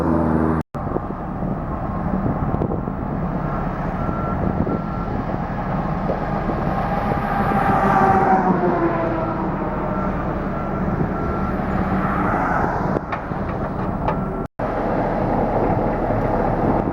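A heavy compactor drives steadily across a drain construction site, its engine a continuous loud rumble mixed with wind noise, broken by two brief dropouts.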